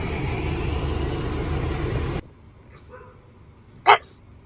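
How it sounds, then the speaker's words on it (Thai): A single short, loud dog bark rings out near the end after a car's steady interior rumble suddenly drops away, leaving quiet cabin hush around it. "เวลาเบนเจอหมาตัวอื่นเห่านะครับ"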